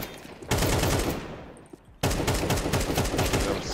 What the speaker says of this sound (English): Nice shot, Mario, nice shot